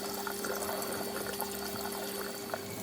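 Running water rinses a freshly cleaned metal lion figurine, a steady close splashing stream with a faint constant hum beneath and no talking.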